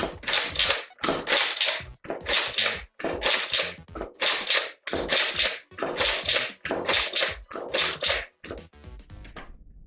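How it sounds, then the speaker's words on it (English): A Nerf Modulus Longstrike blaster fires ten foam darts from an Adventure Force magazine, each shot a loud, close burst of mechanical whoosh and clack repeating at a steady, quick rhythm, with a trailing rattle at the end. "we're just gonna see if we can fire off the 10 shots real quick with this Adventure Force mag"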